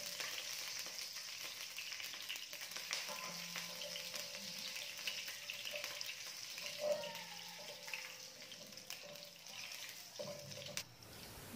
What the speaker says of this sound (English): I'm going to put in my whole spices, the bay leaves and the cinnamon sticks